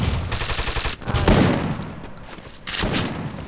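Bursts of gunfire in a shooter video game, several loud volleys of rapid shots separated by short pauses, including a heavy impact moment suggesting a headshot.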